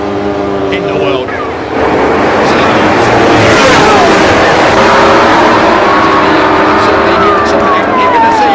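MotoGP motorcycles race at the Mugello circuit in 2020. Loud engine whine rises and falls in pitch as bikes pass, with a commentator talking over the roar.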